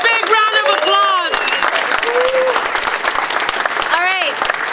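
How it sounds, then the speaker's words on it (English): A crowd at a labor union rally applauds the next speaker, a Unite Here Local 2 representative, with clapping running throughout under loud, sung-out voices and cheers. "A big round of applause."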